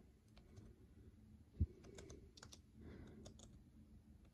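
Keys tap on a Microsoft Surface Go 2 keyboard during web browsing. The light, sparse keystrokes are quiet and close, with one slightly sharper click midway.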